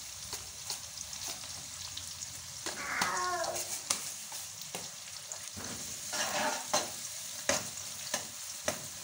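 Cumin seeds sizzling in hot oil in a home kitchen, a steady hiss with clicks of a spoon and two bursts of louder bubbling crackle, all alone and fairly quiet.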